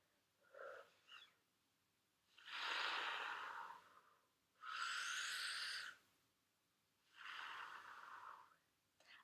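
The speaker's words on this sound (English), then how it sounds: "watch my hands go out as I breathe in through my diaphragm." Slow, deep diaphragmatic breathing up close: three long airy breaths, each lasting over a second with pauses between, preceded by a couple of short faint breath sounds, quiet and with no speech.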